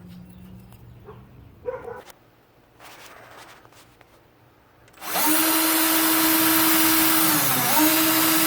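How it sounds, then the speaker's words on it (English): Power drill boring a hole through a muscle car's body panel: after a few seconds of quiet shuffling and a dog's faint whimper, the motor spins up loud and close, whining steadily with a slight dip in pitch as it bites. "Now all I need to do is center punch it and drill it."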